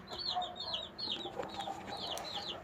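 Chicken clucking up close among farm animals, a run of short, sharp, high clucks and squawks repeating in quick bursts throughout, with no talk over it.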